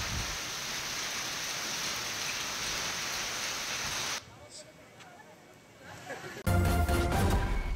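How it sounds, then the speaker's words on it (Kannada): Dense, steady rain and hail hiss loudly for several seconds in Koppal, then cut to a quieter patch and back to a harsher clattering downpour. "ಕೊಪ್ಪಳದಲ್ಲಿ ಜೋರು ಆಲಿಕಲ್ಲು ಮಳೆಯಾಗಿದೆ"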